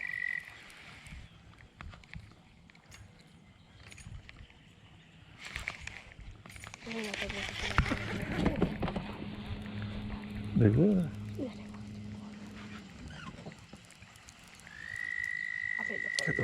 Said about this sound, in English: Got the frogs croaking too